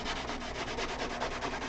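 Wood being sanded by hand, a steady, rhythmic rasping scrape of quick back-and-forth strokes, close and fairly quiet, with no voices.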